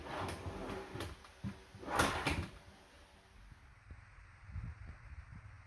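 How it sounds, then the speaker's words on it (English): A few soft knocks and slides, then a kitchen cupboard drawer on soft-close slides glides shut quietly with a muffled thump, no slam. "these soft close slides stop the drawer from slamming"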